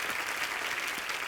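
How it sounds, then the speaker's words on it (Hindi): A studio audience on the Kapil Sharma comedy talk show breaks into loud, sustained applause, a thick continuous roar of many hands clapping together with no pauses. "आप सबकी जोरदार तालियों के बीच"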